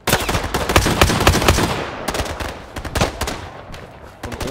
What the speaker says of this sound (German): wo kommen die Schüsse denn her?